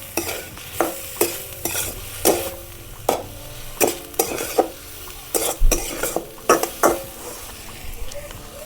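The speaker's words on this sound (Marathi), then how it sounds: "थोडंसं शेंगदाण्याचं कूट मस्त असं हलवून घ्यायची" Wild monsoon greens and crushed peanuts are stirred in a pan. A spoon scrapes in a steady rhythm of sharp, close clatters over a soft sizzle, with no voices.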